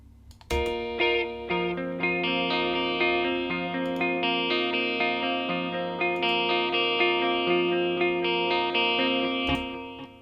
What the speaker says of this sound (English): we changed the sound of the reverb by changing the equalization